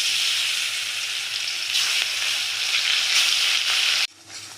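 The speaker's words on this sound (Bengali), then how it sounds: "তো আমি সাদা তেলে মাছটা ভেজে নেব।" Shating fish, a red-eyed fish prepared for kalia, frying in white cooking oil gives a loud, steady, close sizzle with crackling bursts. The sizzle holds for about four seconds, then drops sharply to a quieter hiss. No one speaks.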